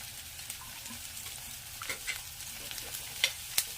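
Ginger and green chillies frying in a pan with curry leaves for a jackfruit and prawn dish, a soft, fairly quiet sizzle with occasional light taps and a couple of sharper clicks near the end.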